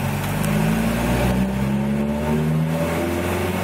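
A Jeep Wrangler with a 2.5 L engine and manual transmission drives off and runs up through the gears, a steady loud engine drone whose pitch climbs, eases as it shifts, then climbs again, with no talking.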